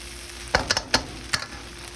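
Shrimp fried rice sizzles in a pan with a few sharp stirring scrapes against the metal, steady frying hiss underneath.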